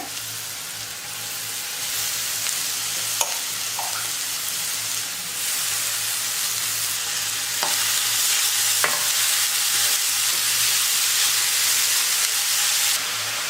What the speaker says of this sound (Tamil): அந்த கேரட் சேர்த்துக்கிறேன்.